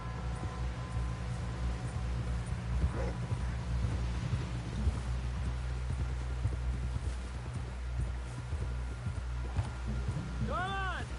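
Horse hooves clip-clop in steady rhythm during a ride in the Red Dead 2 video game, a continuous trotting beat carried under a low rumbling background and faint wind.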